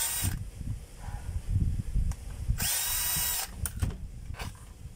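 A power screwdriver whirs in short bursts while the last screws come out of a motor housing, with bright hissing spurts between the low, uneven clatter of handling.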